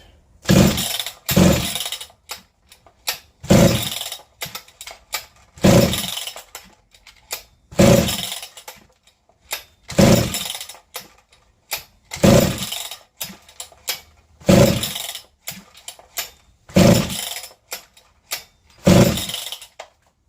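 A Husky 55 chainsaw pull-started repeatedly for a compression test, with ten sharp recoil pulls in a steady rhythm, each a brief rasping burst close by, separated by short quiet gaps.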